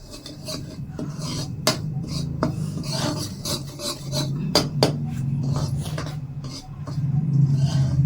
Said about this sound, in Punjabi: ਫਿਰ ਇਹਨੂੰ ਆਪਾਂ ਚੰਗੀ ਤਰ੍ਹਾਂ ਭੁੰਨ ਲਾਂਗੇ ਬ੍ਰਾਊਨ ਕਰ ਲਾਂਗੇ ਜਿੰਨਾ ਚਿਰ ਸੂਜੀ ਬ੍ਰਾਊਨ ਨਹੀਂ ਹੁੰਦੀ ਉਹਨਾਂ ਚਿਰ ਆਪਾਂ ਇਹਨੂੰ ਭੁੰਨੀ ਜਾਵਾਂਗੇ